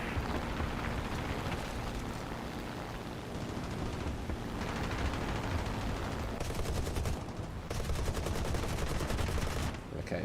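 Aircraft cannons in the War Thunder video game fire in sustained rapid bursts over a constant engine drone, with several rattling volleys standing out near the end.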